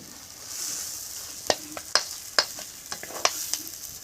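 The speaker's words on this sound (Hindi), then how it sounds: "इसे अच्छे से चलाते हुए 5 मिनट तक पकाएंगे" Masala with coriander, turmeric and chili powder is stirred and fried in oil in a pan, giving a steady soft sizzle with a few sharp spoon scrapes and clicks against the pan.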